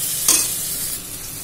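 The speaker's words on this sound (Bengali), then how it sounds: "এরকমভাবে ফ্রাই করবেন যাতে গোল্ডেন ব্রাউন হয়ে যায়" Potatoes frying in a pan toward golden brown, a steady broadband sizzle with a brief stir near the start, close and continuous with no talking.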